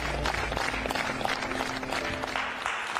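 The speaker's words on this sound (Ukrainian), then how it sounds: "Ці аплодисменти лунають на честь маленької героїні Софійки" Studio audience applauding on a Ukrainian TV crime talk show, a steady dense wash of clapping that fills the whole stretch without pause.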